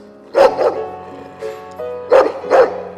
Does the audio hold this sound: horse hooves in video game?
no